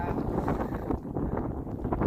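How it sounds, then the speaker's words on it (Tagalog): Strong gusty wind buffeting a microphone outdoors by the Rhine at Dormagen, Germany, a steady loud rumble with brief dips, on a cold spring day. "Pero dahil sa sobrang lakas ng hangin, nakita nyo naman yan, lumilipad yung buhok."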